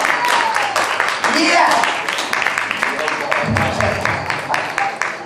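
Loud, dense applause fills a show launch event as producers are welcomed on stage, with sharp claps running steadily throughout and voices mixed in underneath.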